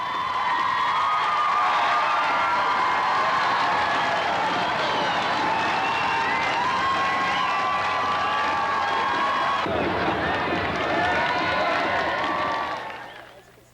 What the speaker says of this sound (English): leader after leader left to the cheers of huge crowds who followed them over the past 3